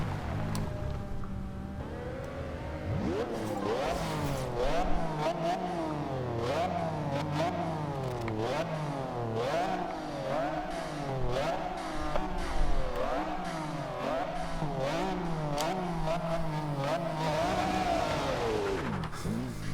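A 1997 McLaren F1 GT engine in Forza Horizon 2 revs and shifts through gears continuously while passing under a bridge, its pitch climbing and dropping in repeated sweeps, loud and close with a synthetic game-like quality.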